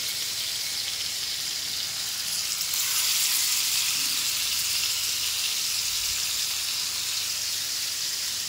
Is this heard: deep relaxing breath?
no